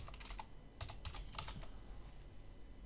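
Typing on a computer keyboard while entering text into a software report: a few quick, soft clustered key clicks, fairly faint and close, with no talking.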